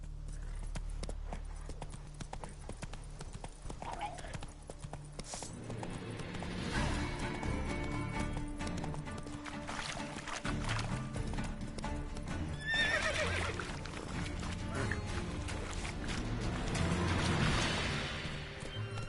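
Roach, the horse in Witcher 3, gallops with steady hoofbeats, and a loud neigh and whinny rise near the end over ambient game sound.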